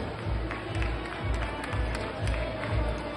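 An audience at a mall grand-finals event applauds a department being introduced, a continuous spread of clapping and crowd noise over a steady pulsing beat.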